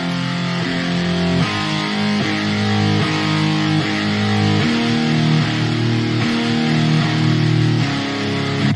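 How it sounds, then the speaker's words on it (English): Heavy metal power chords from a Shreddage 3 Jupiter virtual guitar on a Modern Metal preset, sustained and restruck in a steady chugging sequence, loud and dry with no amp, alone without talk. "Just have it set to a power chord sustain."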